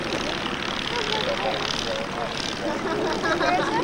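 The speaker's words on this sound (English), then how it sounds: "Very, very close racing by these aircraft" Formula racing propeller planes roar past at close range during an air race in Tasmania, a loud continuous buzzing drone with a commentator talking over it.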